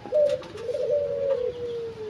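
A single pelung turtledove coos close by, one drawn-out tonal call lasting about two seconds, clear and alone.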